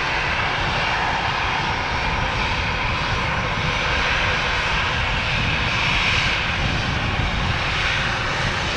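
Airbus A320 jet at Manchester Airport, its engines producing a loud, steady roar with broad rumble and hiss that holds continuously, close by, with no voices.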